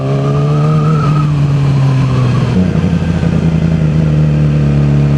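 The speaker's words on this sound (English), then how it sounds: "Man, that exhaust sounds good." A loud car engine revs and settles into a deep, throaty exhaust rumble, with pitch rising and then dropping back to a steady growl, close by.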